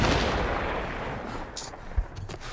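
Loud gunfire in The Last of Us Part I, set in a burned-out building in the suburbs: a heavy opening blast that rumbles away, then a sharp second shot near the end.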